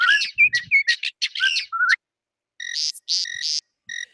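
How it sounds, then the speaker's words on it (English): Calls from a northern mockingbird and a whippoorwill: a quick run of varied chirps and whistled phrases, a short gap, then a clear, repeated whistling call. Both are close, crisp and heard alone. "right now we're listening to 3 different kinds of birds: northern mockingbird and the whippoorwill"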